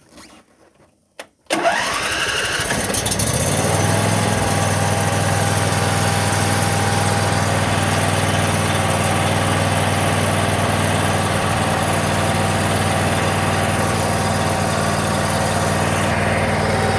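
A Simplicity Broadmoor lawn tractor engine cranks and catches after a brief quiet moment, then settles into a loud, steady idle close by, with no talking.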